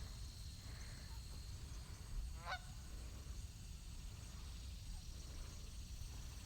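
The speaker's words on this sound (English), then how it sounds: "There's the birds." Two white birds, goose-like, at Montour Preserve, with one brief honking call midway through, heard at moderate distance over steady outdoor background noise, with no talking.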